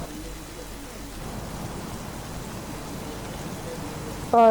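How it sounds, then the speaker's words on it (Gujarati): Rain falling across Ahmedabad in Gujarat, a soft steady hiss of drops on surfaces heard at moderate distance, with a short burst of louder tonal sound at the very end. "અમદાવાદ નહીં પરંતુ ગુજરાતભરમાં સાર્વત્રિક વરસાદ જે છે તે પડી રહ્યો છે"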